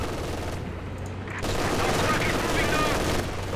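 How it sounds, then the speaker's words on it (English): Sustained machine gun fire in the World War II strategy game Company of Heroes 2, a dense continuous rattle of shots with battle noise, with a voice talking over it. "Oh, there's a machine gun over here too."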